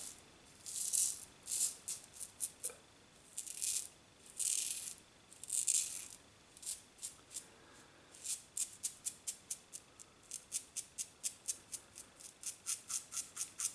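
A razor scrapes across skin in short rasping strokes, slower and broader at first, then quicker and lighter in an even rhythm, heard close with no other sound.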